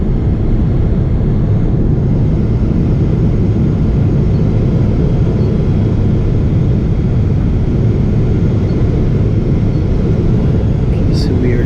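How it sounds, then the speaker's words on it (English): Steady loud low-frequency rumble inside the cabin of a Singapore Airlines jet on approach to Singapore as the landing gear comes down, a continuous broadband roar with no voices. "Hear and feel the landing gear coming down."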